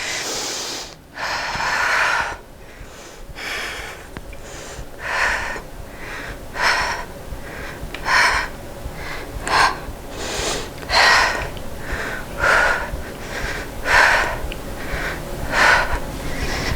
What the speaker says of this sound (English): I'll press up and hold for 10 breaths, 10 longest breaths